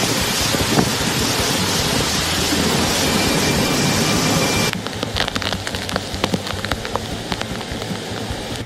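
Heavy rain from Tropical Storm Eta in South Florida pours down as a dense, steady hiss, then thins into scattered drops and patters striking a surface, close and fairly loud with no voices.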